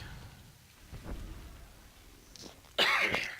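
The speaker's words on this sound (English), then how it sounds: "I'm getting over a little cough here" A single sharp, loud cough bursts out near the end after quiet rumbling background noise, close to the microphone.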